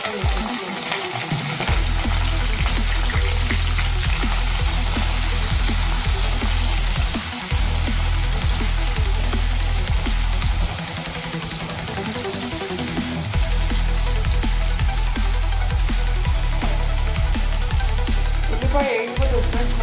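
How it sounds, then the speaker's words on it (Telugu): Sliced onions frying in oil with cumin seeds and curry leaves, a loud constant close sizzle with light stirring, continuous throughout without talking. "ఉల్లిపాయ వేగిపోతుంది ఫ్రెండ్స్."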